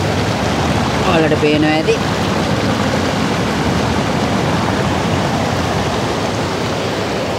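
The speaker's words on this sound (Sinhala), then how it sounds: "මෙතන යනවා ගඟ." A river flows beside a campsite in Meemure, giving a steady broadband rushing hiss throughout, with a person speaking briefly over it near the start.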